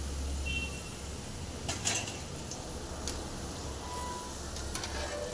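Cauliflower 65 pieces fry in oil with a faint, continuous crackle, a low steady hum underneath and a few light clinks of utensils.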